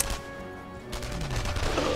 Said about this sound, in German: Es ist ein Sniper-Schuss, der tut weh.